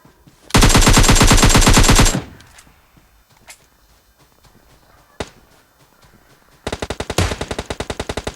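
Gunfire in the PUBG Lite video game: a long rapid burst of loud close shots, a couple of isolated cracks and thumps in a quieter middle, then another rapid run of shots at the end.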